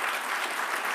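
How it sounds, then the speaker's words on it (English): Audience applause after a talk on a predictive policing data project, a dense, steady wash of many hands clapping together, loud and continuous with no voices over it. "let's give Chris a huge round of applause for the work he did."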